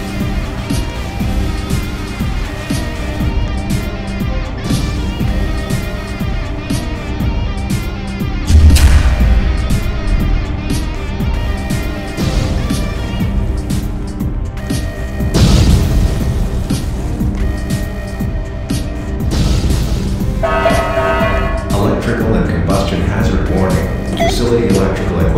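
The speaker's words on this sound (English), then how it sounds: "Explosion imminent." A reactor meltdown explodes in a Roblox game: deep booming blasts strike around the middle and again later, over a constant droning synthetic soundtrack, loud and close.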